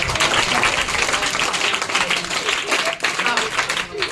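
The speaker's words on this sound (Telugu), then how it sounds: "గట్టిగా చేతులు పైకెత్తి చప్పట్లు" A school crowd at a birthday celebration claps loudly and steadily with hands raised, a dense continuous wash of applause lasting several seconds with some voices mixed in.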